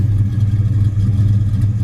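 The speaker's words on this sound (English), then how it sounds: "beautiful sound and dual exhaust, absolutely no smoke out the tailpipes, just got a nice cam to it" 1970 Plymouth Road Runner V8 with a cam and dual exhaust, running close by with a deep, steady, lumpy rumble throughout and no talking.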